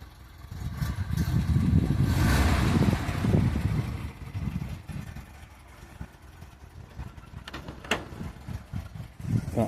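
A Ford Zephyr MkIV car engine fires up and settles into a low, uneven idle, rumbling close by with a few clicks and knocks.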